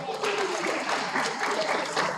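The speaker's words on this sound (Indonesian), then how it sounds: "Tepuk tangan dulu dong." Audience clapping at an event as volunteers are called up, a brief burst of dense applause filling a couple of seconds at steady volume.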